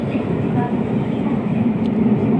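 Steady rumbling roar of a subway train running through an underground tunnel, a continuous low drone with faint rattling, heard from inside the carriage.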